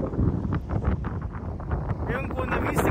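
Desert wind near Dubai, carrying sand, buffets and roars against the microphone in steady gusts, loud and close throughout, while someone talks faintly underneath.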